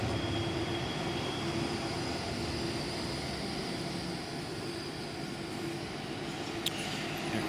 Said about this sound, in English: Here's the number 11 tram, and it's going to go the same way.